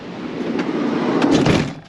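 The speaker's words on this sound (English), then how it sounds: "so we'll close the door again." A motorhome door slides and shuts with a muffled thud near the end, over steady gusting wind outside.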